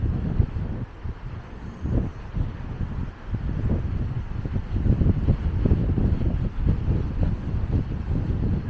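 Heavy wind on the ocean buffets the microphone in low, rumbling gusts that rise and fall, loud and continuous, with no speech.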